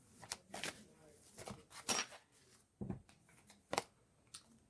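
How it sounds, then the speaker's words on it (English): Tarot cards being shuffled by hand, a series of crisp riffling and slapping bursts at close range, irregular in rhythm, with no talking over them. "Let me give one more shuffle."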